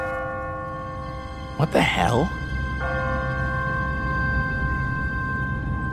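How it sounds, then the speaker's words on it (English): Automatic church bell in The Walking Dead video game, ringing steady sustained tones throughout while a man briefly exclaims over it. "What kind of church bell goes off at 20 past the hour?"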